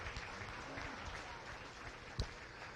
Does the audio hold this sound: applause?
yes